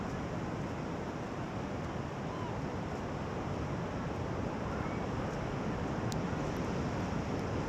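An incoming tide rolls onto a rainy beach on Northern Ireland's Downhill coast, a dense, steady wash of surf blended with wind buffeting the microphone.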